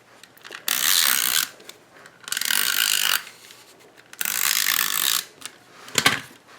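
A snail adhesive tape runner applied to a card: three rapid ratcheting bursts about a second long each, close up, with a short click at the end and no voices.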